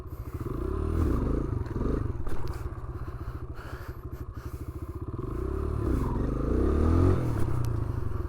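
A motorcycle engine revs and drones steadily during wheelie practice on Long Island, New York, rising to louder surges near the start and again toward the end, with some scraping clatter mixed in.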